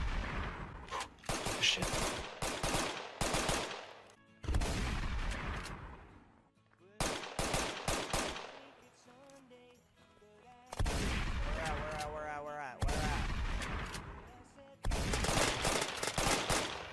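Loud bursts of gunfire from the survival video game Unturned come in repeated volleys with short gaps between them, some rapid like automatic fire, and a brief spoken exclamation slips in between the shots.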